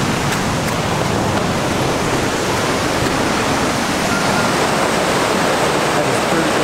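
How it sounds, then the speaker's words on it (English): Powerful rushing water near a lake in Canada, a dense, loud roar of torrent flow, close and unbroken throughout, in rainy conditions. "Look at the force going through there. That is a lot of water."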